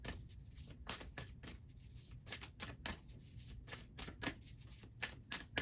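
A deck of Sacred Forest Oracle cards is shuffled by hand in quick, rhythmic riffling bursts, soft and close, repeating steadily throughout with no voice.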